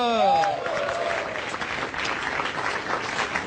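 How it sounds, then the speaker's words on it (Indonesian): A studio audience at a comedy show claps and cheers in a dense burst, with a host's voice at the start and music or crowd noise underneath. "Tepuk tangan dulu."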